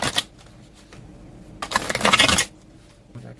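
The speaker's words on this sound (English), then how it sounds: "I'm just gonna give this another shuffle" Tarot cards shuffled by hand in a quiet room: a short riffle at the start, then a longer, louder burst of rapid papery flutter lasting about a second, fading out.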